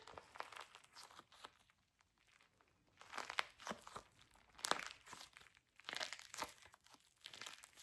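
Close, quiet crunching and crinkling as a squishy stress-ball toy filled with little plastic beads is squeezed repeatedly, with small gritty crackles in irregular bursts.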